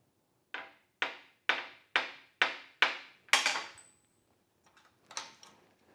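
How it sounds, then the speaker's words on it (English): A small hammer taps a part down on a Porsche 911 3.2L Carrera during an ignition tune-up, seven times in a steady rhythm, sharp close metallic knocks, then pauses before a couple of lighter taps. "with this little tiny hammer, I'm just tapping it down."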